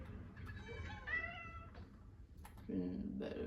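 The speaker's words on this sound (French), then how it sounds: "Encore le chat de Squeezie, mais c'est dingue." A tamed cat mob in a modded Minecraft Bedrock game gives a few short, tonal meows over a steady background hum, followed by murmuring game or room noise.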